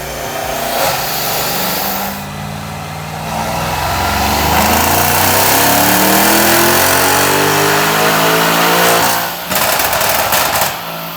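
A stage 2 tuned Mercedes E63S wagon revs loudly and alone, its engine note climbing and falling in long sweeps through several throttle pulls during a test drive.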